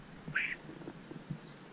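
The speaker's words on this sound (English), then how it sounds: "there's Kitty Meow" A pet cat named Kitty Meow gives a single short meow, close by and fairly clear, in a quiet outdoor garden among flowers and large elephant ear plants.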